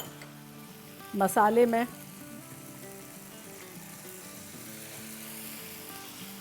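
A chickpea mixture tipped into hot spices in a pan sizzles steadily and softly through the scene, while someone speaks briefly at the start over faint background music.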